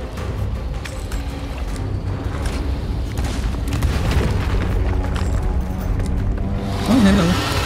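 Cannons fire cannonballs from a pirate ship in the video game Sea of Thieves during a fight with a Kraken, heavy booms rolling over a constant loud low rumble of sea and battle.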